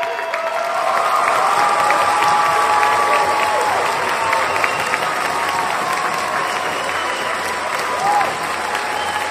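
Loud, sustained audience applause fills a hall, with dense clapping, some cheering voices in the crowd and a brief whistle, continuing steadily with no speech.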